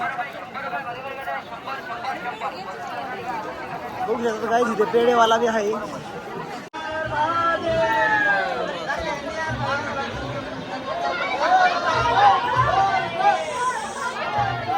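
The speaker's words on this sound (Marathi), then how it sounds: "आज महाशिवरात्री असल्यामुळे प्रचंड अशी गर्दी आहे. खूप गर्दी आहे." Dense crowd at a temple on Mahashivratri, a steady hubbub of many voices chattering close by, with a nearby person talking over the noise throughout.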